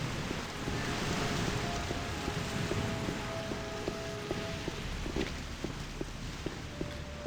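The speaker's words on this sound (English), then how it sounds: "Sounds like it's raining outside." Rain falls outside at night in Gothic Classic, a steady, dense hiss of drops with faint tonal game sounds ticking underneath, no talking.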